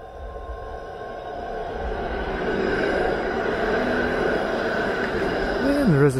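A streetcar rolls along Roncesvalles Avenue in Toronto's Little Poland neighbourhood, its rumble building and holding close by, with a brief wheel squeal near the end.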